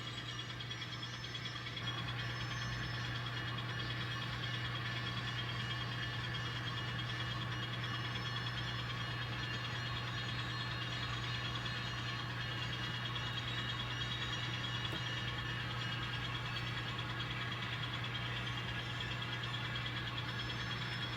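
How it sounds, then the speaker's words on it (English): A model train locomotive revs its engine with cooling fans running, a steady continuous mechanical hum and drone with a constant low tone, holding at even loudness throughout with no voices. "Now, if you rev the engine way up, the fans will come on automatic."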